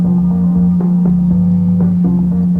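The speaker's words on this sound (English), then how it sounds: "That's the sound of a water-powered generator on the other side of that wall" Water-powered generator running behind a wall, a loud constant low hum with a strong steady tone and slight throbbing, going on without pause.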